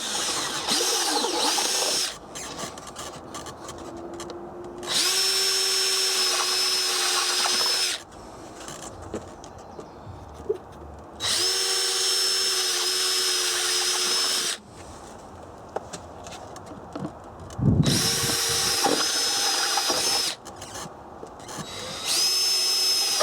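Power drill fitted with a wood bit boring drainage holes through plastic, in repeated loud bursts of a few seconds each, its whining motor rising in pitch as it spins up, separated by quieter pauses with handling noise.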